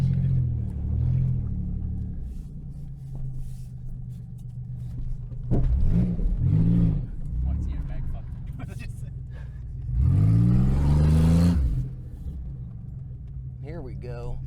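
A Buick car's engine rumbles and revs in loud surges, the strongest bursts around the middle and near the end, with people talking and shouting over it.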